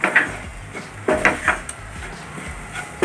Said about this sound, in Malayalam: നന്നായി എല്ലാം കൂടി ഒന്ന് ഇളക്കി കൊടുക്കാം